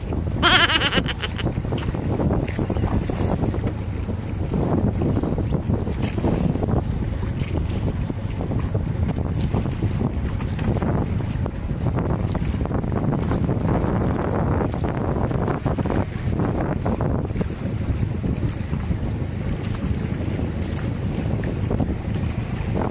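A small boat at sea with a large ship passing, heard as continuous rumbling engine and water noise mixed with heavy wind buffeting the microphone throughout.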